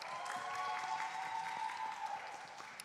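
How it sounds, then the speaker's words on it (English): Applause from a debate and argumentation class at a general meeting, a steady wash of clapping heard at moderate distance that holds for a few seconds and tapers slightly at the end. "class, please give her a round of applause."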